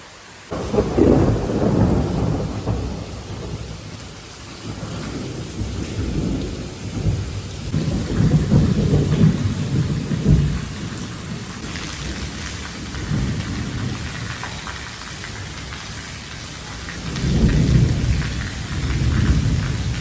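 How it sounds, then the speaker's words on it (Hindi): Heavy rain pours steadily while several deep rumbles of thunder roll in and fade, loudest near the start, middle and end. "इतनी तेज बारिश हो रही है"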